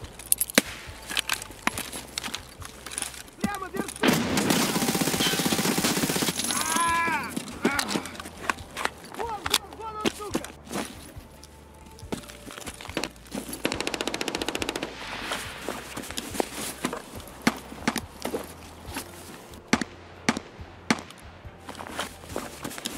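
Automatic weapon fire in Escape from Tarkov, with long sustained bursts and shorter rattling volleys that start and stop, plus clanking handling and footstep noises in between. Someone speaks briefly.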